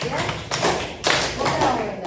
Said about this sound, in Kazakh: Үш рет шапалақтаймыз.